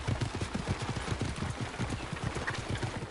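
Horse hooves clip-clopping at a steady trot in Assassin's Creed Origins, a continuous rhythmic patter of hoof strikes heard close and clear throughout with no talking.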